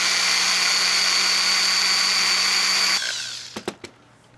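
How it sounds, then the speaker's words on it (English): A small power drill bores into a rivet on a diecast model car, a steady high whine for about three seconds that stops abruptly, followed by a few sharp clicks and taps. "you'll see how it's drilling down into that rivet"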